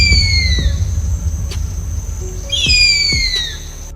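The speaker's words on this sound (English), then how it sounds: "Bald eagle." Bald eagle calls: two series of thin, high descending whistles, one at the start and one past the midpoint, over a low rumbling background with a few faint clicks.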